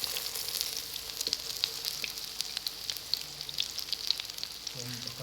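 Kebabs sizzle and crackle steadily as they fry in a pan, with a few brief scraping clicks as they are turned over near the end.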